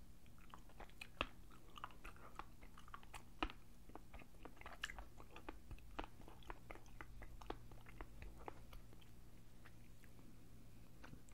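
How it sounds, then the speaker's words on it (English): Someone wearing dentures chews a bite-size candy bar close up, with a steady run of soft crunches, bites and faint clicks and no talking. "That clicking noise you hear when somebody's eating and they have dentures"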